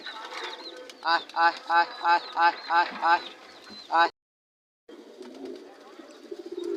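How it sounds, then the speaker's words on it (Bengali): Pigeons cooing close by during a bath, a run of about seven evenly spaced rounded coos, then a brief gap and softer bird murmurs. "এই যে কিছু কবুতর গোসল করে উপরে গিয়েছে গা"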